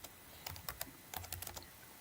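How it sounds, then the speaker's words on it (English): Keys clatter on a computer keyboard in two short bursts of quick, close taps separated by a pause, set in a quiet room during a podcast. "He's typing"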